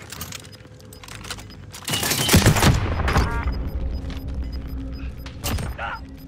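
Gunfire in the Call of Duty: Modern Warfare video game, with a loud burst of shots and booms in the middle of a busy in-game soundscape of clatter, mechanical noise and occasional voices.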